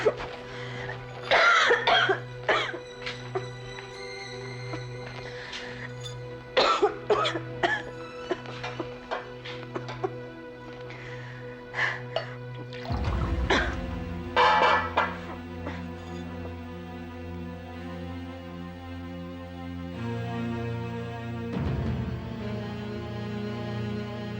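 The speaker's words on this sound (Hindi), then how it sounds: "खांसी ठीक हो जाएगी" Repeated coughing fits in bursts, fairly close, over a steady low hum with some background clatter and no speech.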